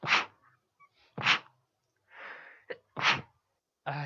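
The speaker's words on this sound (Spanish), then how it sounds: "se va estornudando" A person sneezes three times in quick succession, each burst sharp and close, with breathy sniffs and gasps in the quiet gaps between them.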